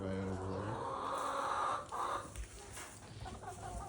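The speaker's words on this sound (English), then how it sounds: "we've got our laying hens inside of the barn as well" Laying hens kept inside a farm barn cluck and murmur near the listener, a busy overlapping chorus of short calls with a person talking faintly underneath.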